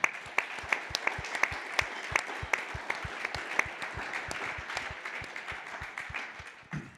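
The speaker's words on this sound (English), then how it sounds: "Yeah, I clap too" An audience applauds steadily throughout, with sharp individual claps standing out over a dense bed of clapping at close to moderate distance, tapering slightly near the end.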